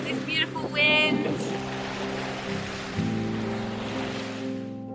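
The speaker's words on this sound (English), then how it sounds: "Nice and cruisy, got this beautiful wind." Wind rushes steadily across a 40-foot sailboat under way, a broad breathy roar mixed with water wash, with a brief voice near the start.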